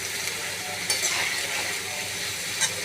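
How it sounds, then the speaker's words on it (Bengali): Pointed gourd frying with nigella seeds in hot oil: a dense, even sizzle throughout, close and moderately loud, with a couple of brief scraping stirs. "তারপর পটলগুলো দিয়ে দেবো, বেশ করে ভাজবো"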